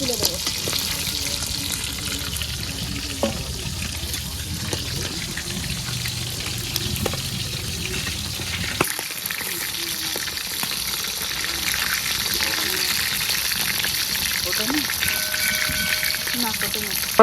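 Pieces of a 2.5 kg Sundarbans catfish (magur) fry in hot oil in a wok, giving a continuous bubbling sizzle with occasional clinks of a stirring utensil, and the crackle eases slightly in the second half.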